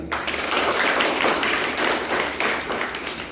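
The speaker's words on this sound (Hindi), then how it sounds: "एक बेहतरीन तालियां" An audience at a business opportunity meeting claps for a speaker, a thick, continuous burst of many hands close by that stays loud throughout.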